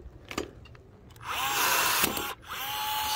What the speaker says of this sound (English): And of course my power rivet gun, if you have one.